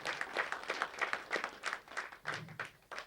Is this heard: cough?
no